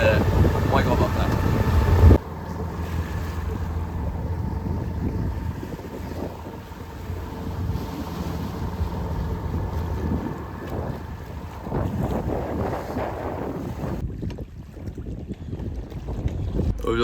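Strong gusts of around 30 knots roar and buffet around an anchored sailboat. The rumbling wind noise is continuous and close, swelling and easing without letup.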